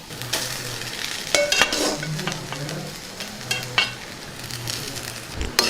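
A spoon stirs cooked rice into a frying mint mixture in a pan. Steady sizzling runs under scraping strokes and a few clinks of metal on metal, close up and without speech.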